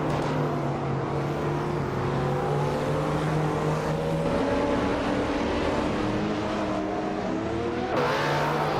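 Engines of a 2012 BMW M5 and other cars race in a video game, a steady loud drone of several cars with shifting pitch as they accelerate from the start, with no talk.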